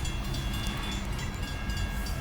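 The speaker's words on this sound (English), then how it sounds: "I think I might hear engine on in the train" Diesel locomotive engine idling on a loaded BNSF coal train, a steady low rumble with constant mechanical drone, close and continuous with no talk.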